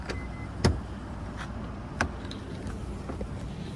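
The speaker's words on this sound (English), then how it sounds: "the mirrors fold out and you're ready to drive" Side mirrors on a 2016-2018 second-generation Lincoln MKX folding out, a quiet electric motor whir with a couple of soft clicks as they lock into place, heard close and alone.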